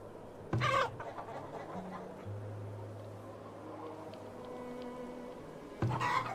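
Chickens in the video game Farthest Frontier give two short, loud clucking bursts with a gap between them, over a steady low hum and soft background game tones.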